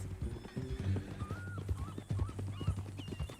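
In Red Dead Redemption 2, horse hooves clip-clop in an uneven rhythm while a horse neighs and whinnies in short bursts, close and moderately loud, with a low steady hum beneath.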